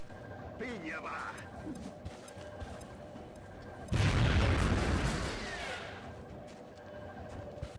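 A sudden loud, close armor-piercing grenade explosion in XCOM: Enemy Within on the Long War mod, with a heavy blast that rumbles and crackles away over a couple of seconds, set among quieter game ambience and someone talking.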